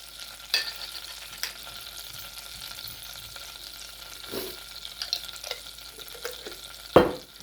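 Shrimp sizzle softly on a hibachi grill, a quiet steady hiss broken by a few sharp clacks and scrapes of a spatula flipping them, the loudest strike near the end.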